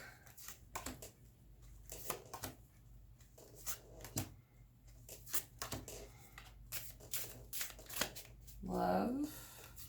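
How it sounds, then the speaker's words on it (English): A tarot deck is shuffled by hand, with repeated crisp riffles and card slaps close up. A voice speaks briefly near the end. "Cards are flying out of the deck."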